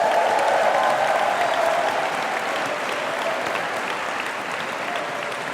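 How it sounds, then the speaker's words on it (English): An audience applauds at a school's first graduation ceremony, a dense, steady wash of clapping that holds throughout and eases slightly toward the end, with no talk over it. "I would like you to give a warm round of applause for Headmaster John Puddifoot."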